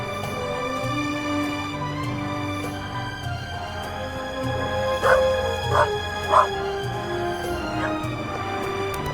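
Dog barking in The Raven Remastered video game: three short, sharp barks in quick succession midway, over a steady hum of game ambience and music, with no speech.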